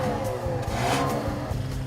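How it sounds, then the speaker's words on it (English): A 2015 Chrysler 200's turbocharged 4-cylinder EcoBoost engine pulls hard under acceleration, giving a steady mid-pitched drone with a slight rising growl that holds loud for about two seconds. "It's a turbocharged engine. It's going to sound like a sewing machine with a little bit of extra grumph"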